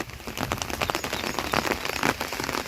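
Rain falls steadily onto surfaces near an outdoor cooking fire, a dense patter of drops with scattered louder taps and no voices.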